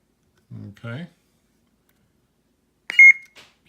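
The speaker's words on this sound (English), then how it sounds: "beep." A single high electronic beep from a Sabertrio Neo Vahlken toy lightsaber sounds briefly after a stretch of quiet, preceded by a short voice, with another voice starting just after.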